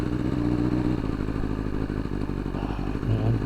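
Motorcycle engine idling steadily in cold weather on a first ride of the year, a continuous low rumble with some light clatter, close and fairly loud, with no speech.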